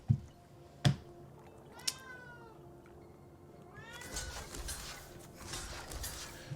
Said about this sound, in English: Why are you meowing at me?